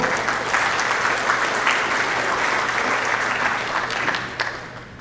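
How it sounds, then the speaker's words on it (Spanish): An audience at a university forum on symbolic violence gives a steady, full round of applause that tapers off near the end. "Un aplauso, por favor."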